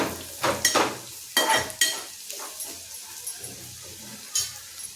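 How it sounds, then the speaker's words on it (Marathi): A spoon scrapes and clinks against a pan while garam masala is stirred into sizzling masala curry, several sharp strokes up front, then a soft sizzle that fades with a few lighter scrapes. "छानपैकी मिक्स करून घ्यायचा गरम मसाल्याला."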